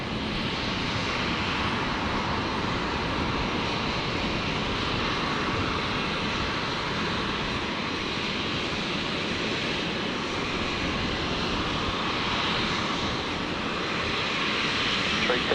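Boeing 737 coming in to land at Brisbane airport, a continuous broad jet engine roar fairly close and steady across the whole stretch, faint voices in the background.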